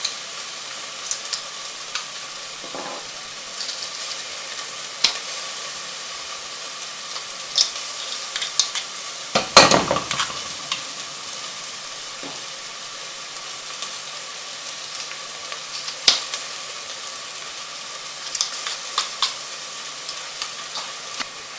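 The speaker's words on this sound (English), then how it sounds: "after a few minutes of the onions cooking, they've turned translucent" Onions for chilli con carne fry softly in a pan, a faint steady sizzle broken by scattered clicks and scrapes of stirring, with one louder clatter midway.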